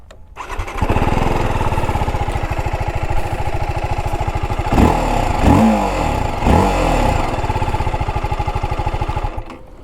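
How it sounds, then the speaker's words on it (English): A TVS Apache RTR 310 motorcycle starts and idles with a loud, close, steady thumping exhaust beat, broken by a few sharp throttle blips midway before settling back to idle. "Now let's listen to the exhaust sound."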